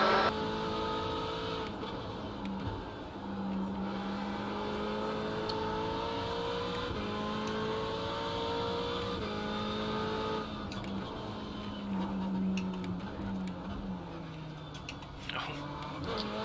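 A Ferrari 488 GT3 race car engine in iRacing at Imola drones steadily with rising and falling pitch as it accelerates through gears, with a voice talking over it.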